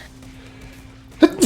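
A single sharp sneeze bursts out suddenly at the very end after near silence, loud and close.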